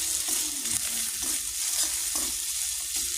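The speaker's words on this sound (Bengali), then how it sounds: "আদা বাটা কষাবো রসুন বাটা কষাচ্ছি" Ginger and garlic paste being sautéed in a pan for a Bengali fish and potato curry: a steady loud sizzle throughout, with soft spatula scrapes and stirs recurring every half second or so.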